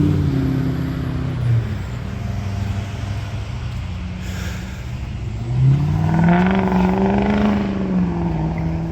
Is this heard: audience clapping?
no